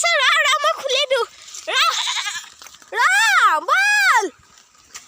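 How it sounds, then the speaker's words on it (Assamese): Several goats bleat loudly and close by in heavy rain, a quick run of wavering cries followed by two long, drawn-out bleats with short gaps between them. "আমাৰ এই ছাগলীকেইটা ঘৰত যাব ৰখি আছে।"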